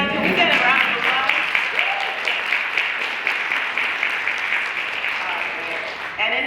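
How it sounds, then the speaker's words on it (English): An audience in a panel-discussion room breaks into sustained applause, dense clapping that stays loud for several seconds and then thins slightly, with voices mixed in. "Can we get a round of applause?"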